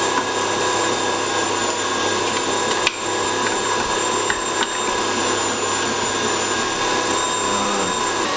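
A meat grinder runs with a loud, steady mechanical whir while grinding fresh beef mince for burgers, holding constant throughout with a couple of brief knocks and no voices.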